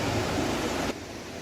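Fast-flowing river water near a rock, a loud broadband rushing roar that drops abruptly in level partway through, with no voices.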